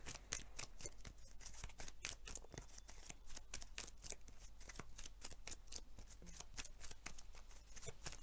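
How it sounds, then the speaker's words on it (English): A deck of cards for the Mage Knight board game being shuffled over and over, a steady run of crisp riffling and snapping card flicks close up, with no talking. "We shuffle the dummy player's deck."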